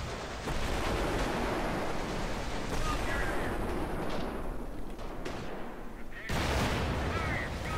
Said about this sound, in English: Let's throw some more sticky bombs!